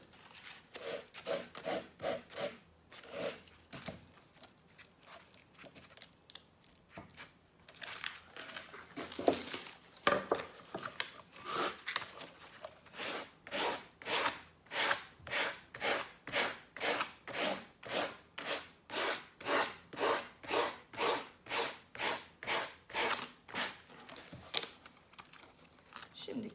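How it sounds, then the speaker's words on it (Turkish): Rhythmic rasping strokes of sandpaper cutting a paper edge for decoupage, irregular at first and then settling into a steady back-and-forth pattern, close and fairly loud. "Ve kalan yerleri de aynı bu şekilde zımpara ile pürüzsüz bir halde kesiyoruz"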